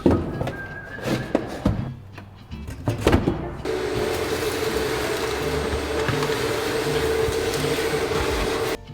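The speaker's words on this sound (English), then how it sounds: "I'll bust out the vacuum cleaner. I'm gonna clean out their cab" A few hollow thumps and knocks, then a vacuum cleaner switches on inside a Mack truck cab and runs with a steady, loud whine to the end.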